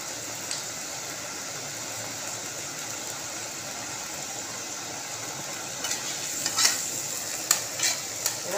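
Katla fish masala with ginger garlic paste is stir-fried in a pan, giving a low constant sizzle that picks up toward the end with several distinct scraping stirs and clinks.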